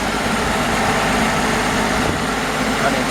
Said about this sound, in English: And you can just hear how smooth that engine is running.